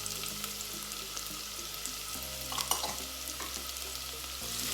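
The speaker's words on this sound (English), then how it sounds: "Now I'm going to add chopped ginger" Chopped ginger and garlic sauté in a pan for a bottle gourd (lauki) curry, giving a steady, close sizzle with a few soft scrapes of stirring and no voices.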